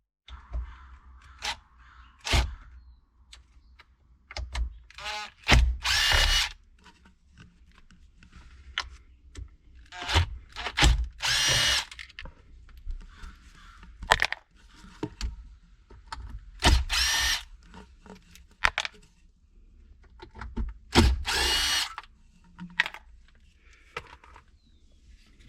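Short bursts of a power driver back out Phillips head bolts holding the stereo in a 1996 Toyota 4Runner Limited, each whirring spin-up separated by quiet pauses and small clicks.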